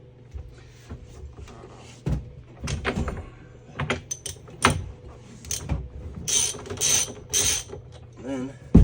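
Ratchet on an extension working a 30 mm steering wheel nut on a C2 school bus, heard as scattered clicking and metallic clunks with a few louder knocks, close by and with no talk.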